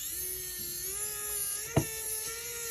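A powered screwdriver working on a cordless hair clipper during a motor replacement, giving a steady high-pitched motor whine throughout, broken by one sharp click partway through.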